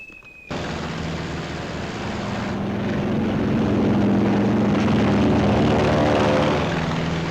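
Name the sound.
WWII carrier fighter planes taking off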